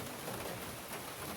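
Steady rain falls on the Appalachian Trail in the 100 Mile Wilderness, a dense, even hiss of drops close by with no voices.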